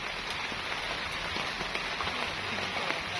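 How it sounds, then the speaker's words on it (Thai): Rain falling steadily on surfaces outdoors, a dense even patter of drops throughout, moderately loud and close with no talking. "ฝนตกอีกล่ะ"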